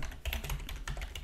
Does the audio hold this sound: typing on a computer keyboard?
yes